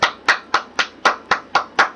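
Eight sharp, evenly spaced claps ring out in quick succession, crisp and close with short decays and no talking.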